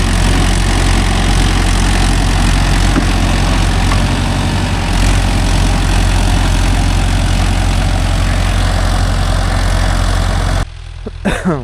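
A Mahindra Yuvo Tech Plus 585 4WD tractor engine runs loud and steady with a deep continuous drone, working with a 42-blade rotavator in a field, before cutting abruptly near the end.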